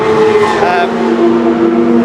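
A BMW 318i Super Touring race car engine revs, a loud tonal note rising and then holding steady and close, while a voice talks over it.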